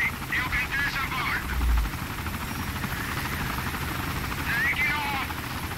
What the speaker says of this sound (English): Quick shoot down the helicopter.